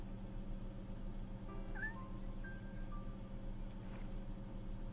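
A cat meows in the video game Shenmue, two or three short, fairly faint mewing calls over a steady low ambient hum, with no talking.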